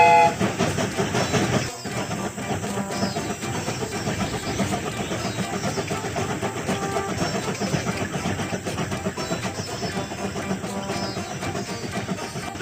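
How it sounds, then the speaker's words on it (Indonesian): Cartoon train pulling out of the station in a BabyBus children's game, a continuous chugging rumble with a sharp start, running on steadily at moderate volume with no talk over it. "Kereta ini akan segera berangkat."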